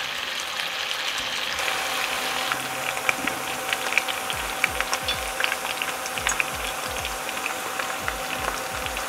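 Sliced potatoes fry in a pan for a rustic home-style dish, with steady close crackling and sizzling, dense popping spatter over a faint background hum, and no talk.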